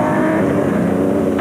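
A V6-powered Nissan Hardbody rally race truck runs hard at speed, its engine a loud, continuous, steady roar close by, with no voices over it.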